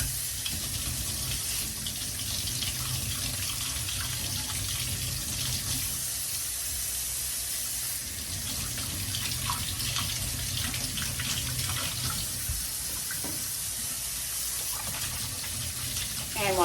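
Tap water runs steadily into a kitchen sink while cucumbers are washed for quick dill refrigerator pickles, a continuous close hiss and splash that barely changes over the whole stretch.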